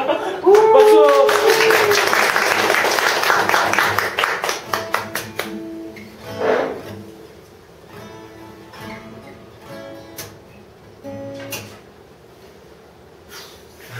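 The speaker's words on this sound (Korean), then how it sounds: "박수!" An audience at a Korean human library storytelling event claps briefly, a loose burst of hand claps that thins into scattered single claps, followed by voices talking and laughing nearby.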